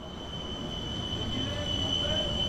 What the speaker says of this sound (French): 13h, nous peut assister à l'arrivée métro express.